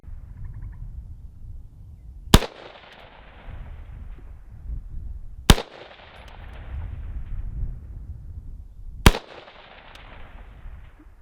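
Three sharp rifle shots ring out at a 400-yard outdoor range, spaced a few seconds apart, each with a loud crack and a long rolling echo fading into quiet ambience.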